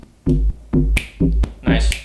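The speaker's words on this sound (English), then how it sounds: "Nice traditional house bass." A deep synth bass plays four punchy, evenly spaced notes in a steady groove, each with a sharp click on top.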